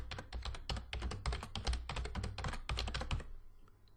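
Fast, steady typing on a computer keyboard while entering a search term, with dense clicking keystrokes close by and a short pause toward the end.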